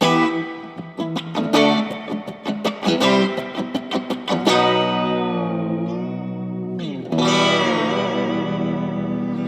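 Fender Stratocaster electric guitar with heavy reverb plays a rapid picked surf riff, then rings out on sustained, echoing chords; loud and close, no voices.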